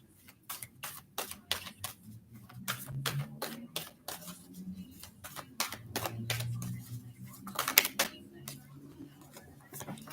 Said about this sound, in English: Let me lay all the cards out, y'all.